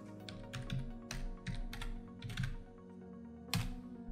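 Typing on a computer keyboard: a quick run of crisp, close key clicks in uneven bursts, with a louder final keystroke near the end and a faint hum beneath.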